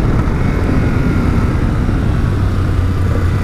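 Riding a 2022 Yamaha Ténéré World Raid motorcycle: loud, steady engine drone with heavy wind rush, constant and close throughout the short stretch.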